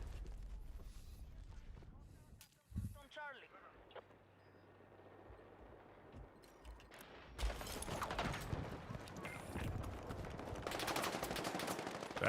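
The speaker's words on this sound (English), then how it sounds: "That is a tank." Tank gunfire in a video game during a livestream, a dense run of booming shots and mechanical clatter that builds loud in the second half, with a talking voice heard over parts of it.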